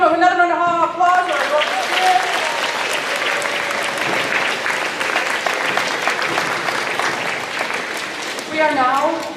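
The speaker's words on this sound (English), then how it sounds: "Give them another round of applause." An audience applauds a 5th grade band at a school awards assembly, a steady wash of clapping that holds for several seconds, with a voice talking over the start and the end.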